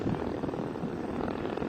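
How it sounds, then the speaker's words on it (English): A large heavy-lift aircraft in flight at a DARPA Lift Challenge gives a faint, steady mechanical drone with a slight pulsing texture, distant and continuous through the short stretch. "flying this big aircraft"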